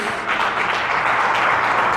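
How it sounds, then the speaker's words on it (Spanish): Congregation applauding during a Spanish-language church service, a dense, steady wash of many hands clapping at once, loud and continuous for its whole length with no voices on top. "le das un aplauso al Señor por la seguridad que tienes"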